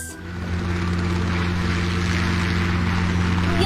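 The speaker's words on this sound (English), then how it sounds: "it is a helicopter" A helicopter's steady rotor and engine drone holds close and loud throughout, with a rhythmic pulsing beat and no voices.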